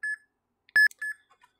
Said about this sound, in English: every time it loads up a card, it makes a little beep